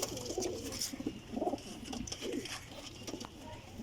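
Pigeons of a Faisalabadi breed coo repeatedly in a loft, their low throaty burbles rising and falling in short overlapping phrases close by, with a steady murmur of other birds behind.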